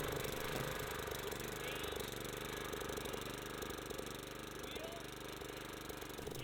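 Small engine of a sod cutter running steadily at close range, a continuous rattling, chugging drone with no pause, faint voices mixed beneath it.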